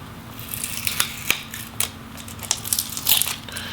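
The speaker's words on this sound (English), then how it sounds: "we're going to have to peel off the nifty little 144 megahertz or 144 hertz sticker" A 144 Hz sticker being peeled off an Asus ROG Strix SCAR II GL704G laptop, close crackling and tearing with a series of small sharp rips.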